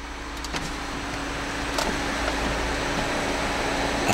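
Power windows move in a 2011 Mini Cooper Clubman, a steady motor whir heard from inside the car over a constant rushing cabin and outside background noise.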